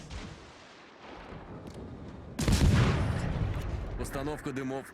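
Naval artillery fire in the World of Warships game: a heavy booming salvo breaks out and rumbles on after a quieter stretch, and someone talks over the end.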